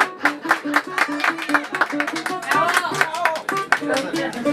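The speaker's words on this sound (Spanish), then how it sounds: "Bien bonito el aplauso, por favor" An audience claps with quick, uneven hand claps at a birthday mariachi performance while voices talk over it and a melodic line runs underneath.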